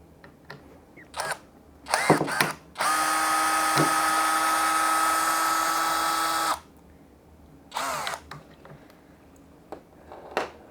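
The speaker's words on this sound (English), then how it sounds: "Let's try removing that screw from this angle here." A Saker 20V brushless drill backs out a screw with a steady, close whine lasting several seconds, set between short trigger bursts and handling noises.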